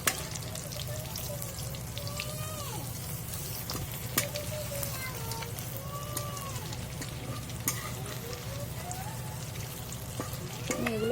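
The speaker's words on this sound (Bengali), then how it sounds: "আমি এগুলো ভালো করে উল্টে পাল্টে ভেজে নেব" Egg and potato pieces fry in a pan with a steady, dense sizzle throughout, broken by occasional clinks and scrapes as the pieces are turned and stirred.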